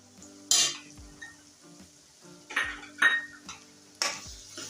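Onion, chopped chili and ginger-garlic paste fry in a pan for a kantola vegetable dish, giving a low sizzle punctuated by several sharp spoon-on-pan clanks and stirring scrapes.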